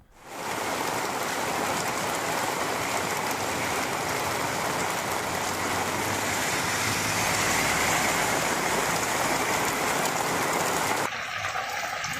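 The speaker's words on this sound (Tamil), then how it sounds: "புயல் காரணமாக திருவண்ணாமலை மாவட்டத்தின் பல்வேறு பகுதிகளில் கனமழை பெய்து வருகிறது." Heavy cyclone rain pours steadily over Thiruvannamalai, a dense continuous hiss of downpour with water running on surfaces, loud and unbroken throughout, briefly dropping in level near the end.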